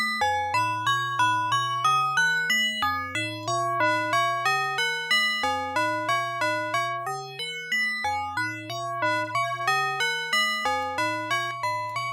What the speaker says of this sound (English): so we've got marimba sounds, we've got metallic sounds, we've got bell sounds, we have string sounds